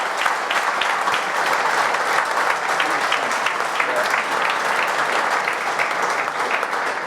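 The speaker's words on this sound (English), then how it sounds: "Can we just have a round of applause for James Chester" A live podcast audience applauds footballer James Chester, with steady dense clapping throughout, loud and close, with no talk over it.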